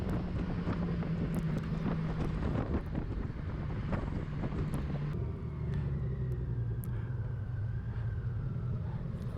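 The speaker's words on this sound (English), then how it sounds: "Easy bike to ride. Seamless transition of the gears." A DCT motorcycle on a test ride, a steady engine rumble under constant heavy wind buffeting the microphone, with the drone shifting tone midway and no talk.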